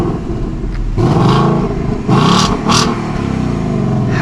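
A 2024 Ford Mustang GT V8, started remotely, idles loudly and then revs twice in quick succession, each blip rising and falling close by, before settling back to a rumbling idle.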